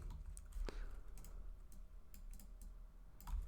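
Quick, uneven keystrokes on a computer keyboard while searching for an emoji, crisp clicks in short bursts with pauses between, close up and alone over a faint background hum.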